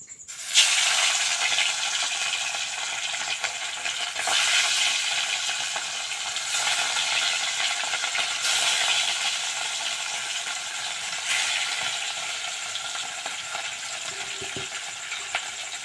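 Rohu fish pieces frying in hot oil in a wok, a continuous bright sizzle that swells a little as each piece goes in, close and steady with no talking.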